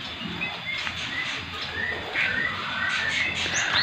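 Ciblek birds at their caged nest give a scatter of short, bright chirps and calls, some close and some softer, over a steady background hum.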